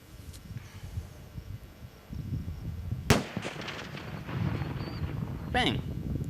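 An explosive charge blasting a hard disk, a single sharp loud bang cutting through outdoor wind noise and voices, followed by rumbling debris and a later rising whine.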